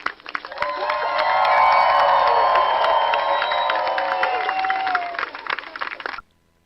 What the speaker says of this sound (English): let me get my round of applause first off.